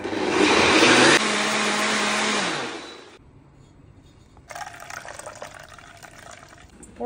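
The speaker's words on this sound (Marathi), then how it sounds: "उदा घालया।" Water pours into a cooking pot while a vegetable stew for appam is being made, a loud rushing splash for about three seconds, then quieter kitchen sounds and a second softer burst of running water.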